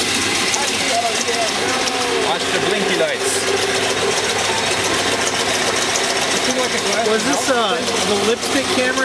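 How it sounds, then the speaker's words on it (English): A boiler-powered steam engine drives a generator, filling the room with a steady loud mechanical clatter and hum throughout, while people talk over it nearby. "all that noise is being caused by a steam engine, which is being powered by a boiler."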